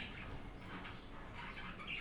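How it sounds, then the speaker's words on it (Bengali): Pet budgies chirping and squawking indoors, faint busy twittering that continues steadily over about two seconds with no voices. "আর পিছনে আমার পাখিগুলো কি বলবো এত পরিমাণের চিল্লাচিল্লি করে"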